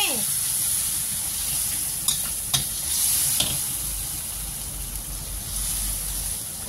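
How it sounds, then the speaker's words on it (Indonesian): Spices being stirred in a hot oiled pan for a bamboo shoot vegetable dish, a steady close sizzle with a few sharp scraping clicks of the spatula, no talk over it. "Sekarang bumbunya sudah dimasukkan, diusluk-usluk."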